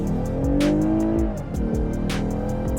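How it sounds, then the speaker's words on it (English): A 3.5-liter V6 Lexus IS 350 accelerates hard on a highway, its engine note climbing through rapid paddle-shifted gears with brief dips between shifts, loud and close with no talking. "we're gonna punch it a little bit here on the highway"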